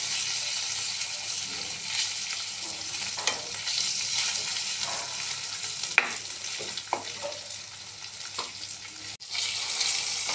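Chicken roasting in a pan with garlic paste in its own released water, a steady close sizzle and bubbling with a few clinks of stirring throughout.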